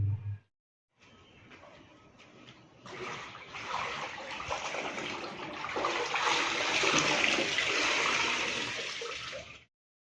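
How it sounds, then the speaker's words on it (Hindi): A washing machine runs nearby, washing clothes, giving off a steady rushing swirl of water that builds and then cuts off abruptly, after a brief knock at the start. "कपड़े धोने वाली मशीन लगा रखी है"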